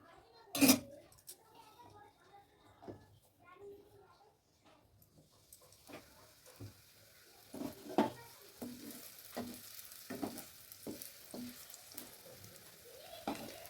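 Paneer-stuffed chhana paratha fries in a small amount of oil in a pan, giving a steady close sizzle with occasional scraping and stirring clatter while voices talk in the background.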